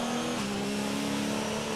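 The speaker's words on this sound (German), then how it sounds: "So im Bereich 160 bis 190 Sachen klingt der Wagen sehr interessant" Loud, continuous high-revving Formula 1 engine note from the F1 2019 racing game at the Melbourne Grand Prix, with a brief pitch dip early on before settling into a steady whine.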